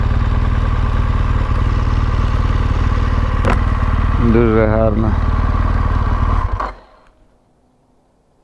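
Motorcycle engine running steadily on a mountain road in the Alps near the Verdon canyon, a loud continuous drone close to the rider, with a brief rhythmic rattle midway and a short spoken remark, then the engine cuts and near silence follows.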